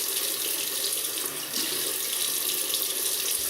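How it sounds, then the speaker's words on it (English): Tap water runs steadily into a sink to re-wet a face before a wet shave, a constant close hiss lasting throughout with a brief dip midway. "I'm just going to re-wet my face"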